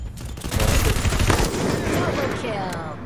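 Gunfire from the battle-royale game Free Fire, a dense burst of rapid shots and booming impacts that stays loud and sustained throughout, with game noise filling the background.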